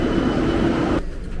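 A steady loud rumble of a Barcelona commuter train in motion, heard from inside, fills the clip, then drops to a quieter, thinner roar near the end.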